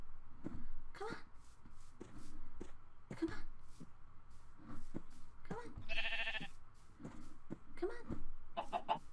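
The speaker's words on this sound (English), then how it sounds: "Sheep, come here. Come on, sheep." Sheep bleating in the video game Minecraft, a few short bleats and animal calls amid clicks and footsteps, with a person talking intermittently over them.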